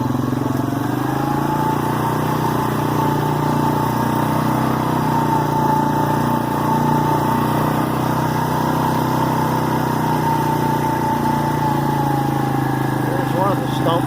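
Four-wheeler ATV engine running steadily close by as it is downshifted before climbing a big hill, a loud continuous drone with a faint rise in pitch, a voice talking over it.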